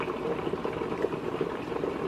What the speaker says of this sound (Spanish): ahí está hirviendo. Así tiene que estar hirviendo